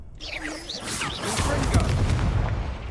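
Bursts from the Confringo fire spell in Hogwarts Legacy go off as booming, whooshing explosions that build and hold loud across the clip, with game noise layered around them.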